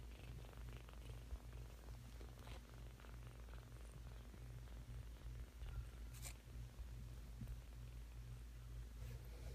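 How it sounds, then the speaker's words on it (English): A kitten purrs up close in a steady, rhythmic rumble that carries on without a break, soft and low, with no talking over it. "must feel much better, you're purring"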